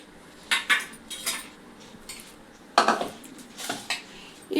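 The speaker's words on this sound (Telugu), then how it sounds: "ఇట్లా పొడుగ్గా కట్ చేసి వేసుకోవాలి." A medium-sized onion being sliced lengthwise with a knife in a home kitchen while cooking tomato dal, giving a few sharp, close knife and board clacks spread out over several seconds.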